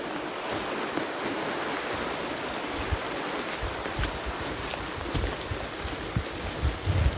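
Heavy torrential rain pours steadily at a wild campsite, a dense continuous hiss with close drops pattering on a tarp and tent, loud and unbroken throughout.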